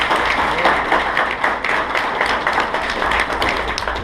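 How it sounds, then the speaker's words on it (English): A crowd at a Mohave County sheriff candidates' forum in 2016 claps steadily, a dense, even patter of many hands that holds at a constant level for the whole stretch with no voices over it. "Is that all it takes for a clap?"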